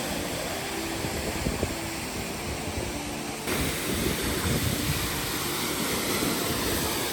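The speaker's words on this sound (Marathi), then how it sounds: "हा धबधबा नंबर 3." A large waterfall in the Maval forest, its roaring rush of water steady and loud throughout, growing fuller and louder midway as the flow comes into view.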